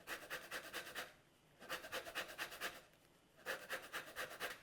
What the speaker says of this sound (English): a bit of orange zest